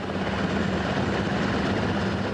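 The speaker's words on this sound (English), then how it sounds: "In a matter of minutes, the Black Hawks are airborne." Black Hawk helicopters lift off for a flood rescue in Honduras after Hurricane Mitch, their steady rotor thump and engine roar loud and continuous with no voices.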